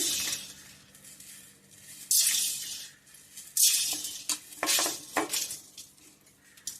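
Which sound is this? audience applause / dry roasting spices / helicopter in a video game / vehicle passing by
dry roasting spices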